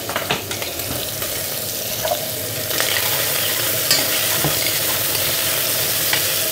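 Prawns frying in ghee give a loud, close, constant sizzle with bursts of spitting and crackle that swell slightly midway, with nobody talking.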